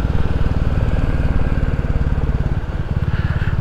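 A Royal Enfield Classic 350 single-cylinder motorcycle thumps steadily while being ridden, a loud, close, rhythmic low pulse with no talking.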